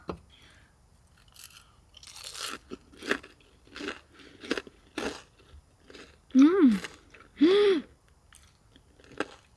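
Crunchy bites of a cheese pork cutlet being chewed up close, eaten during car camping in a 1998 Galloper, with a steady series of crisp crunches over about eight seconds and two short voiced hums of enjoyment near the end.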